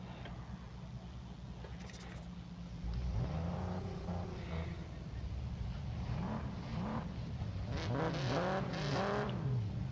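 A race car in the Need for Speed No Limits game launches from the start line. The engine hum builds and then revs hard with rising and falling tones, loud and close, and there is no talk.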